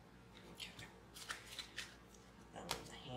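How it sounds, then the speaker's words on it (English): A deck of cards is riffled and shuffled in several quick bursts, fairly quiet and close, with brief pauses between. "And then shuffle the deck."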